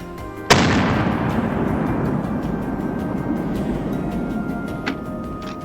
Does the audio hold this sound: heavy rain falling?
no